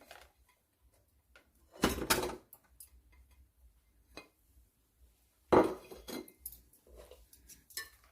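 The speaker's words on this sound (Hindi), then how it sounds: "चम्मच से हम इसको अच्छी तरह से मिला लेंगे" A spoon stirs cake batter in a pot heated on a stove, making two short bursts of metallic clinking and scraping with quiet gaps between.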